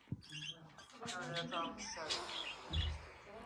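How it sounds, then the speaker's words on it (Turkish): Pet bird chirping indoors, a series of short, close, high-pitched tweets and squeaks, fairly quiet, mixed with a voice in the room. "Kuşum var. Kuşla oynuyorum ben."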